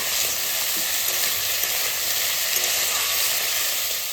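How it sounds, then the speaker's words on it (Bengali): Eggplant and potato stir-frying with lightly browned onions in a pan, a dense continuous sizzle with faint stirring scrapes close by. "তারপর দিয়ে দেবো বেগুন আর আলু ভালো করে নাড়াচাড়া করে নেবো"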